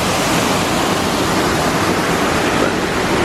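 Loud, dense rush of water pouring over the top of a dam spillway in West Virginia, a constant broadband roar without breaks.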